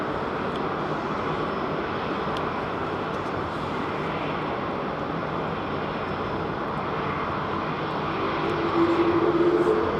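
Boeing 787 Dreamliner departing London Heathrow, a steady broad jet roar sustained at moderate distance throughout, swelling slightly louder near the end with a faint whine emerging.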